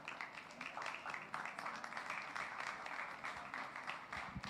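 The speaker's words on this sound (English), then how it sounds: "Ladies and gentlemen, a round of applause" Moderate audience applause at a tech conference as speakers come to the stage, a continuous patter of clapping of middling loudness with some crowd murmur mixed in.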